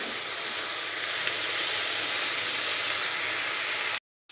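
Potatoes and onions with chilli frying in a covered pan give a steady, even sizzling hiss that holds loud and close for about four seconds, then cuts off briefly near the end.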